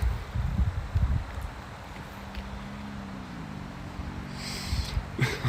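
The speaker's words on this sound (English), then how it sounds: "Wind is all over the place today." Wind gusts through woods outdoors, buffeting the microphone with low, uneven rumbles that swell strongly at the start and again near the end, with steady airy rushing between them and no voices.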